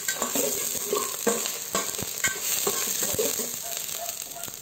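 Sliced garlic frying in hot oil over medium heat, a continuous close crackling sizzle with frequent sharp pops and spatters throughout.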